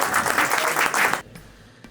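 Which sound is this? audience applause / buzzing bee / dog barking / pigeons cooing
audience applause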